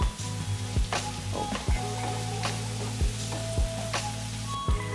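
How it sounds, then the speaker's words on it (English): A slit dark green chili sizzles in a frying pan for a prawn chilli fry, a steady crackling hiss broken by several sharp knocks of a utensil against the pan. "At this point here, I'm adding in 1 green chili."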